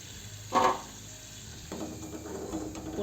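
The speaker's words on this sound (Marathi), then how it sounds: "पुन्हा तळून घेऊ मिरची." Chillies coated in a rice-flour batter fry in hot oil with a soft, steady sizzle. One louder scrape or clatter of a utensil against the pan breaks in early, and the bubbling grows a little livelier afterward.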